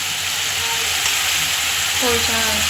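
Potatoes and turmeric fry in a pan with a loud, even, continuous sizzle and hiss up close, plus faint stirring scrapes and a brief voice heard near the end.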